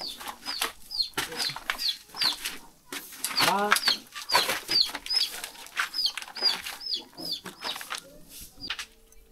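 Chickens cluck in short repeated calls throughout, close by, with a person talking over them for much of the time.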